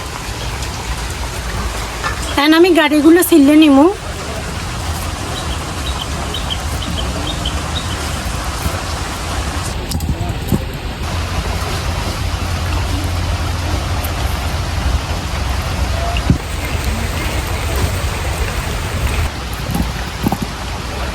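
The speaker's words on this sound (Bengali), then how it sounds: "বৃষ্টি এখনো পড়তেছে এখন" Steady rain falls on a village courtyard where a simple meal is being cooked, a constant even wash of sound that runs the whole time, with a brief spoken reply early on.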